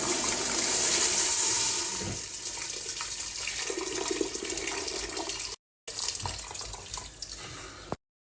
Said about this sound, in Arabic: شايفين ضيف المي السخنة